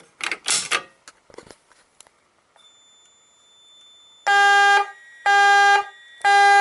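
After some handling clicks and a near-silent pause, a fire alarm voice evacuation panel set off by a VG12LR pull station sounds loud, repeated electronic tone bursts in a steady on-off rhythm.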